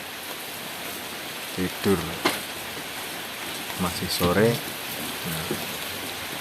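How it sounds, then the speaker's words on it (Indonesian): Steady rain falls at night as a continuous hiss throughout, with someone speaking briefly in Indonesian over it. "Suasana hujan daripada"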